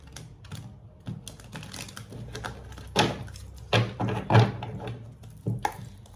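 Tarot cards being shuffled by hand, a series of brisk riffling and tapping bursts, close and dry, irregular with short pauses between, no voices.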